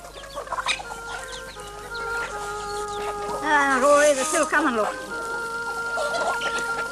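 Dozens of hens on a farm cluck and chatter around someone speaking, with a few louder, higher squawks rising in the middle before the birds settle back to steady clucking.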